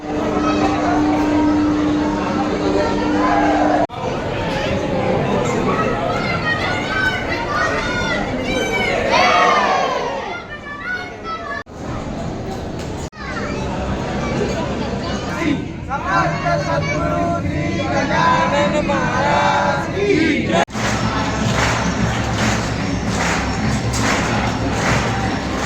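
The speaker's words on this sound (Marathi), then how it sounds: "आज एकादशी असल्यामुळे एवढी गर्दी आहे" A large, dense crowd of pilgrims queues at Shegaon on Ekadashi, with loud, continuous hubbub, shouting voices and children's cries filling the scene, and people talking nearby throughout.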